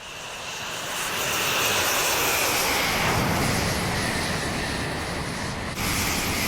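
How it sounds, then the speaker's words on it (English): A Eurofighter Typhoon fighter jet landing in a video game, its engine a loud, steady roar that swells after the first second and holds without pause, with no talk over it. "anyway, drop. Land the plane."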